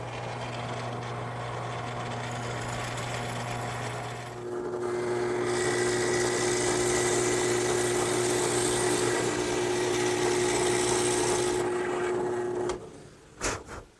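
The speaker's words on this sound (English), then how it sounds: "Now I'll just bore a hole about 6 inches deep." A 5-in-1 woodworking machine in horizontal boring mode drills a 6-inch-deep hole in wood for a garden swing, a steady motor hum that rises into a louder, grinding whine as the bit cuts, then winds down with a few clunks.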